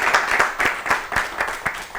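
A group of children clapping together in a studio, sounding as steady rhythmic claps about four per second, close and fairly loud, with no voices over it.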